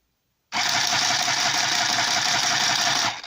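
A mini sewing machine motor whirs in a steady, even buzz for about three seconds as the needle goes down, alone and close, then stops.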